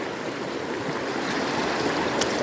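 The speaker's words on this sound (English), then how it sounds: "strong water flow" A river rushes with strong flow, a steady, loud broadband roar of churning water that holds constant throughout, with no voices.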